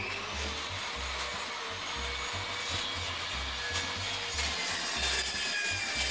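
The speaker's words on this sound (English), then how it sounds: "Another great tool, a track saw for getting straight lines." A track saw rips through decking boards in a continuous loud whining cut, with rhythmic low thumps running underneath throughout.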